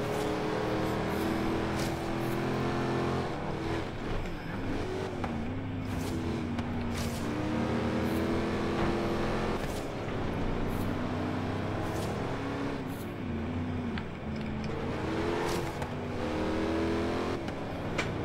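A 4x4 car drives steadily over sand tracks in Forza Horizon 3. Its engine drones loud and continuously, and the revs rise and fall as it accelerates and shifts.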